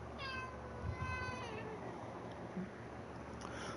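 A pet cat named Stallone meows close by, giving one drawn-out rising and falling meow over a steady background hum from a video game, followed by a fainter short vocal sound.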